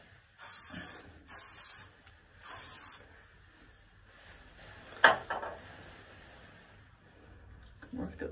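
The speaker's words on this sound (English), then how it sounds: "like Ursula, I'm gonna spray the hell out of this" Hairspray from an aerosol can hisses in three short bursts for an Ursula make-up look, fairly close and loud, followed by faint handling clatter and a soft voice.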